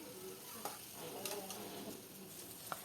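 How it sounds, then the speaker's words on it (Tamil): Brinjal and tomato fry in oil for a brinjal gravy, a faint, steady sizzle and soft hiss with a few light clinks of a stirring utensil against the pan. "இன்னும் கூட நல்லா வேகட்டும் எண்ணெயிலேயே."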